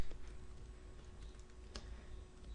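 Quick run of keystrokes on a computer keyboard, close and steady, light clicky taps over a faint room hiss with one slightly sharper press near the end, no voices.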